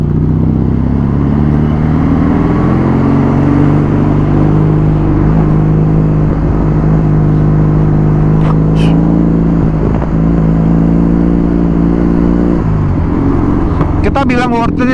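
Kawasaki W800 motorcycle ride, a steady loud engine drone with a low rumbling tone and a gear-shift drop in pitch near the end, close and continuous under wind noise, with someone talking over it.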